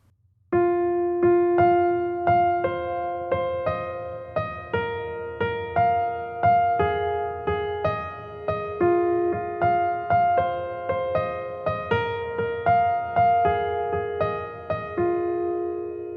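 Solo piano plays a melody at full speed, a steady stream of clear, evenly spaced notes with a repeating low accompaniment, close and alone.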